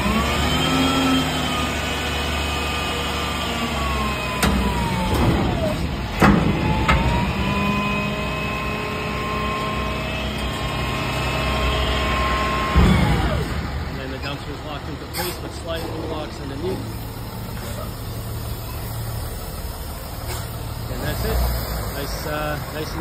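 A roll-off dumpster truck's engine idles and revs while a dumpster is winched onto the truck bed, a steady diesel drone with rising whines and clanks, with someone talking over it.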